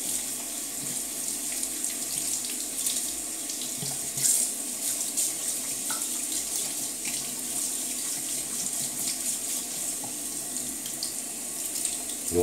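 Tap water runs steadily into a sink, rinsing a brand new brush, a continuous close splashing hiss that lasts throughout with no voices.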